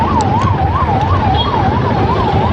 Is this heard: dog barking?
no